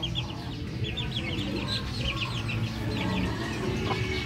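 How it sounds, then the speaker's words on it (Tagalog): Chicks peep in rapid high chirps while hens cluck low, the flock pecking at spilled feed on the ground. The busy chatter is steady and close, with no one talking. "Akong gipagawas ng mga piso kay para makaon nila ng nangahulog nga feeds."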